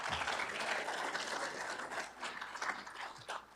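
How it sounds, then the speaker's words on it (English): A room full of people at a State of the City event claps in a steady wash of applause that gradually thins out toward the end. "You can give them a clap."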